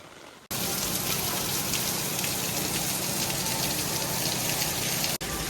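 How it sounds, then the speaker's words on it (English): Heavy rain pours down steadily while water overflows from a drain onto the ground in Japan, making a dense, continuous close-up hiss and splashing rush that starts abruptly, holds loud, and cuts off briefly near the end. "To show just how bad the rain is, the overflow drain has overflowed and is now overflowing down onto the damn floor."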